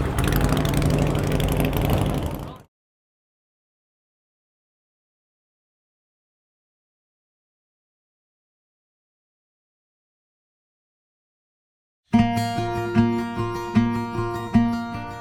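A custom-built bagger motorcycle engine runs with a steady close idle rumble for a couple of seconds, cuts to silence, and is later followed by music.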